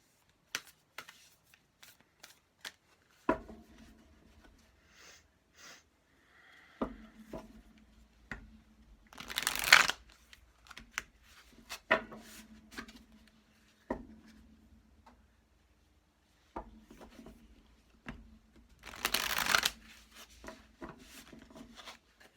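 Tarot cards are shuffled and drawn close by, with soft slides, taps and flicks scattered between quiet pauses and two louder riffling shuffles.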